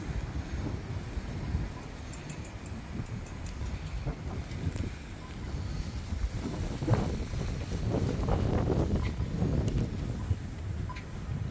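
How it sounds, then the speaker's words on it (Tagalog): Strong wind gusts buffet the microphone outdoors before rain, a continuous rumbling roar that swells and fades, with faint traffic noise beneath. "Ang lakas ng hangin."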